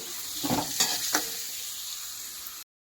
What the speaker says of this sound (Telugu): ఆనియన్స్, గ్రీన్ చిల్లీ, వేసుకొని అవి కొంచెం బాగా గోల్డెన్ బ్రౌన్ వచ్చే వరకు మనం దాన్ని బాగా ఫ్రై చేసుకోవాలి